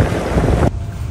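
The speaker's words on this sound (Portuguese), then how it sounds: "Agora estamos a experimentar o jacuzzi." Jacuzzi water bubbling: a loud, dense rush of churning water and air that cuts off abruptly partway through, leaving a quieter hiss.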